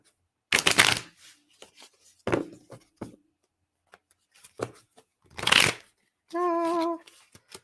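Tarot cards being shuffled and handled in bursts of crisp riffling and slapping, close and fairly loud, separated by quiet gaps, ending with a brief tonal sound.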